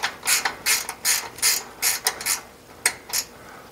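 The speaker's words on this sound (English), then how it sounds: "Let's tighten our one remaining clamping bolt on this side." A hand ratchet tightens a clamping bolt on the turret basket of a Brunswick A2 bowling pinsetter, giving sharp bursts of rapid metallic clicking in about a dozen uneven strokes, close and loud, with short pauses between.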